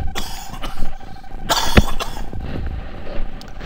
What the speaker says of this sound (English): Really had to cough.